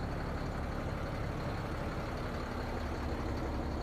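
A 2007 Freightliner M2 106 truck's diesel engine idles steadily, a low, even, faint rumble with no change in pitch.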